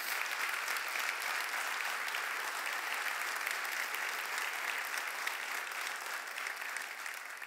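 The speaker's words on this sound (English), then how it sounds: "I would love to give the City of Somerset employees and my team a round of applause" An audience applauds the City of Somerset employees with steady, sustained clapping that fills the room at an even level throughout.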